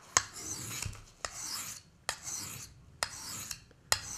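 A work knife is drawn over an abrasive sharpening stone in light, fine strokes, giving a soft, hissing rasp. Sharp clicks mark the start of each stroke, about five strokes in an even rhythm, close and quiet, with no talking.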